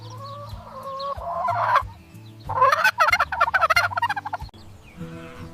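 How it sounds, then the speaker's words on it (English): A large brown farm turkey gobbles loudly and close, with rapid rattling bursts broken by brief pauses and lower clucking notes. "This is a large brown farm turkey."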